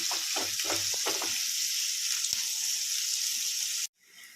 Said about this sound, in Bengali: এবারে তেলটা গরম হয়ে এলে আমি পেঁয়াজ কুচিটা দিয়ে পেঁয়াজটা হালকা আগে ভেজে নেব